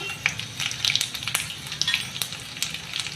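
Steady crackling sizzle of fenugreek seeds frying in hot oil, with sharp pops scattered throughout, close and fairly loud.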